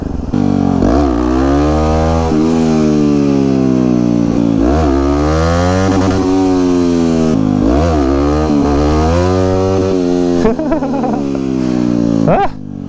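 A supermoto motorcycle engine revs hard and close, rising and falling in several loud surges with brief throttle drops between them, and no talk.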